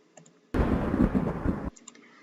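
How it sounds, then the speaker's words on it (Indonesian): A thunder rumble sound effect, chosen as the sound of divine punishment in a retelling of the story of Prophet Yunus, bursts in as one loud, dense, sustained roar of just under two seconds, then cuts off abruptly. "Ini ya, thunder rumble sound."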